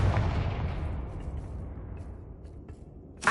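A Confringo spell blast in Hogwarts Legacy lands as a single heavy booming explosion that rolls off into a long fading rumble, with a sharp crackle at the very end.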